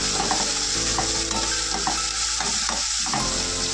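Tomato sautéing with garlic, onion and curry leaves in a pan for a Malvani mackerel curry, giving a steady close sizzle with soft stirring clinks and scrapes throughout.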